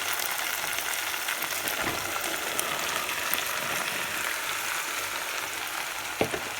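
Githeri tipped into a pot of semi-cooked potatoes, giving a steady hissing sizzle with faint stirring clatter and a couple of sharp knocks, no voices.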